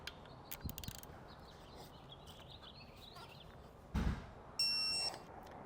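At the end a torque wrench tightens the bolts on an Air Lift LoadLifter 5000 Ultimate air spring assembly, giving a short, faint ratcheting burst and a sharp electronic tone after scattered quiet clicks of handling.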